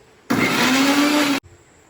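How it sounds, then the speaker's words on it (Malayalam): Mixer grinder blending a masala of chilli, garlic and ginger with a little oil, one loud steady whir of about a second that starts and stops abruptly in a quiet kitchen. "ഇതിനകത്ത് ഇട്ടിട്ട് നമ്മൾ മിക്സിയിലൊന്ന് അടിച്ചെടുക്കുകയാണ്"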